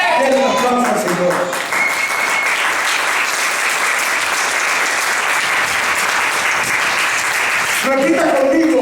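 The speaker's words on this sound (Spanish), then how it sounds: "Denle un aplauso al Señor." A church congregation at a Spanish-language service breaks into loud, sustained applause that fills the middle of the stretch, with a voice speaking over it at the start and again as the clapping fades at the end.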